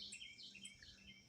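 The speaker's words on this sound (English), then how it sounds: "Maybe y'all can hear them birdies singing in the background." Birds sing and chirp outdoors in a yard, several quick high tweets and short phrases, faint and distant, with no talk.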